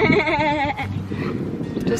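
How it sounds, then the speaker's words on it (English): Goats bleat close by at a strawberry festival with livestock, giving one wavering, drawn-out bleat that is loud and near. Faint background noise and voices follow it. "What does a goat say?"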